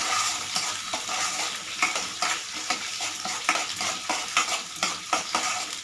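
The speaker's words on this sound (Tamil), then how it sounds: "இது எல்லாத்தையும் நல்லா வதக்கி விட்டுருலாங்க." Onions sizzle steadily in a hot pan for lemon rice while a utensil scrapes and stirs in a regular rhythm, close and fairly loud, with no talking.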